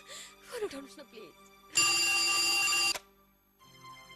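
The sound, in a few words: telephone ringing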